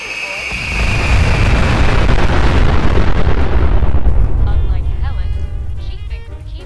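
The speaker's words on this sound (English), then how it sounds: "which is a great place to test out the mini nuke minigun. Just remember, don't look directly at the blast" A mini nuke minigun detonation in Fallout 4 on Xbox One, a loud sustained roaring explosion that swells in and rumbles for several seconds before fading into debris crackle.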